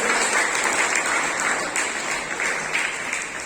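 Children applaud at a school prize distribution ceremony, a dense, steady clapping from a large group that stays loud throughout.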